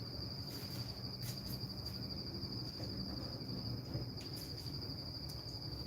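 Many insects chirp at night, forming a dense, continuous high-pitched trill that holds steady throughout, with a soft low background rumble underneath and no talking.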